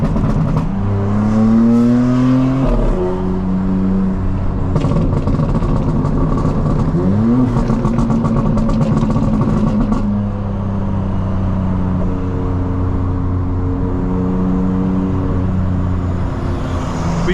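A 900-horsepower 2025 BMW M4 Competition accelerates on a highway, its engine climbing through several loud revving pulls with rising and falling pitch over steady road and wind roar, heard from the cabin.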